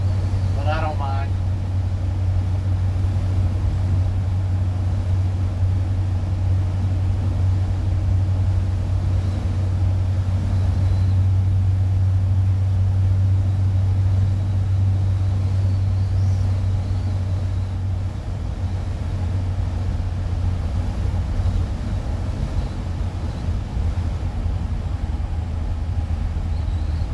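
A 1960 Ford C600 truck engine drones steadily during a ride, a loud low rumble running continuously with a faint voice early on.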